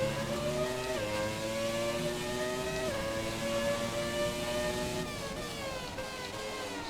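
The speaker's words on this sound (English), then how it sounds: "considering the engine sounds pretty decent" Williams FW18 Formula 1 car engine in the F1 2017 racing game, a loud continuous high-pitched whine rising and dropping with gear changes, heard alone with no talk.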